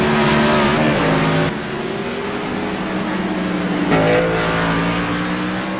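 Race cars in an AMS Wounded Warrior Cup Series race at Sonoma Raceway roar loudly through the fourth turn, engines whining and shifting pitch as they accelerate close by.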